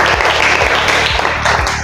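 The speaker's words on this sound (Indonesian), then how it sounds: "Beri aplaus kepada kelompok 5 yang sudah memprestasikan." An audience in a classroom applauds a student group after their presentation, a dense and steady burst of many hands clapping close by that holds at full loudness for the whole stretch.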